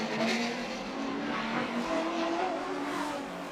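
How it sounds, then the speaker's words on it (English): A Porsche race car's engine winds up on the Bangsaen street circuit in a Thai GP race, a loud, continuous rising engine drone with some tyre noise, heard steadily throughout. "you can hear the Porsche really winding up at the moment"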